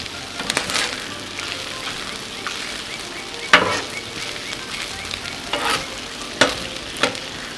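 Frozen stir-fry vegetables sizzling on a hot Blackstone griddle while being stirred, a steady close hiss broken by sharp spatula scrapes and taps at intervals.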